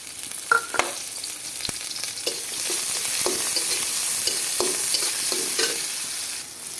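Chopped onion sizzling in hot oil in a wok, a steady frying hiss broken by scraping stirs of a spatula against the pan, close and continuous with no talk.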